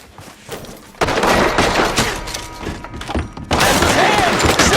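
Gunfire in Red Dead Redemption II on Xbox Series X: two loud, close bursts of rapid shots, each starting abruptly and rolling on for a couple of seconds, with a quieter gap between them.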